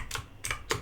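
A computer keyboard on a Windows PC is typed on in three distinct close clicks, evenly spaced and crisp, with no speech.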